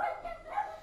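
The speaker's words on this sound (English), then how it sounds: "Little tiny dogs like to bark, don't they?" A small dog barks twice in quick succession, a soft and somewhat distant yapping with no voices over it.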